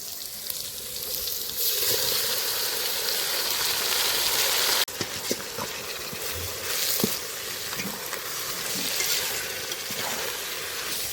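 Half a kilo of tomatoes frying in a pan for tomato rice, a steady, loud sizzle and crackle that fills the pan, with occasional clinks and stirring noises and no talking.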